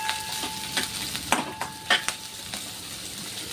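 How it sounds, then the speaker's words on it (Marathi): Chillies roasting in oil over a high flame for a Chinese-style dish, giving an intermittent sizzle broken by sharp scrapes and clinks of a spoon stirring against the pan, close and fairly loud, with no talking. "म्हणून मी सगळं थोडं तेलामध्ये चांगलं भाजून घ्यायचं आहे"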